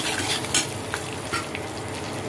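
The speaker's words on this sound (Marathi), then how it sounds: "थोडीशी आपल्याला मोहरी, मस्त आपल्याला थोडंसं आपल्याला परतून घ्यायचं" Mustard seeds, chili, cumin and asafoetida sautéing in hot oil, a loud, dense crackling sizzle with quick spatters and a few faint utensil scrapes.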